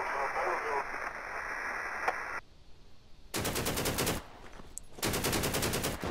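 Gunfire in the survival shooter Deadside, with two loud sustained bursts of rapid automatic fire separated by a pause, following a stretch of steady radio-like noise.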